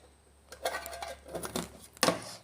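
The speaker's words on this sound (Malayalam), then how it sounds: "ഞാൻ വീണ്ടും പാത്രം നമുക്ക് അടയ്ക്കാം." A lid closes on a container of homemade mango pickle, a few soft clicks and taps followed by one sharper clack near the end, quiet and close with no talking.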